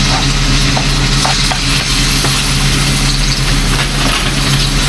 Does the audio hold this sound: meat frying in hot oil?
yes